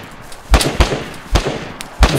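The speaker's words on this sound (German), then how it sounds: "Jetzt hab ich's gehört, die Schüsse." Gunshots in the video game DayZ, four sharp loud cracks spaced irregularly over about two seconds, each with a short echoing tail.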